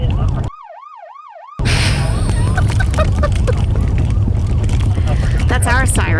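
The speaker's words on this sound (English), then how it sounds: "That's our siren." A police car siren wails in rising and falling sweeps, loud and close, briefly alone before being buried under a dense wash of noise, engine rumble and people talking excitedly.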